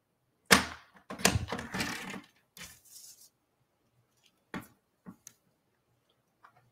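Paper being trimmed for a handmade Valentine's card, heard as a few sharp cutting strokes up close followed by scattered light clicks and taps, with quiet gaps between.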